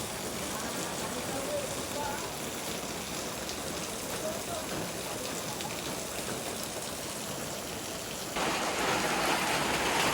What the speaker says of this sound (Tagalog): Ulan na pod.